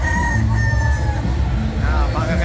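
A rooster crows amid a loud, busy crowd at a gamefowl expo in Manila, its call rising over a steady wash of chatter and hall noise with no clear pause.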